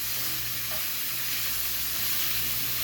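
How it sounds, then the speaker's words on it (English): Steady crackling sizzle of food frying in a hot pan, close and continuous, with a faint low hum beneath. "I'm just waiting for this here to sizzle. I'm sure you guys can hear it"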